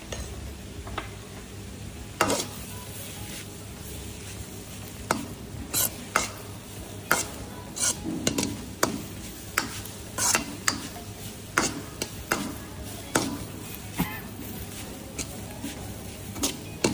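Turmeric, chili, cumin and coriander powders are sautéed in a pan for dhaba-style cauliflower keema: a low background sizzle broken by regular sharp spatula taps and scrapes on the pan, close by, with no talking.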